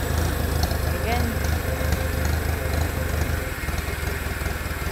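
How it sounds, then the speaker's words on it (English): A restored Farmall Cub tractor engine runs steadily at idle, a continuous low chugging drone close by with no talk over it. "I'm so happy with the way that this tractor starts and runs."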